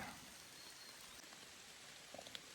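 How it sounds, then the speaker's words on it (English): Soft, steady rain hisses evenly on the Appalachian Trail, with a few faint drips standing out near the end. "In the rain."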